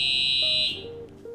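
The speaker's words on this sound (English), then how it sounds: "That was an untimely fire alarm." A fire alarm in a sports talk show studio sounds a loud, piercing electronic tone that cuts off abruptly, followed by faint quieter tones.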